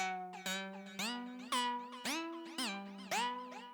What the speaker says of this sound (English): this little pattern here playing with the automated filter into the drop